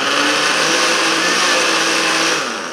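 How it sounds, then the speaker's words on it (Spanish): An electric blender whirs loudly and steadily while whipping cream and condensed milk for homemade ice cream, a close, constant motor drone that winds down at the end. "le vamos a poner lo que es la leche condensada. Y lo vamos a llevar a batir."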